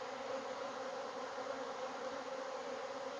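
Honey bees buzzing around an open hive during a beekeeping inspection, a dense continuous hum of many insects close by, steady and unbroken throughout.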